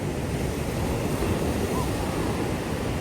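Sea waves wash onto a beach in Vietnam, a loud continuous roar of surf with wind buffeting the microphone, dense and unbroken throughout.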